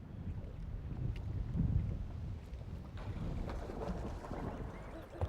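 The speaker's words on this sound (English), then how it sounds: "There's quite a bit of wind up there." Wind gusts across the open bay, buffeting the microphone with a constant low rumble that swells and fades, faint and steady with no clear voices.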